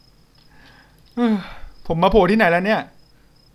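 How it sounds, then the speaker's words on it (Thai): Faint, steady crickets chirp through a haunted hospital scene in a horror game, a thin constant tone running beneath a man's speech. "มีเสียงจิ้งหรีดด้วยครับ"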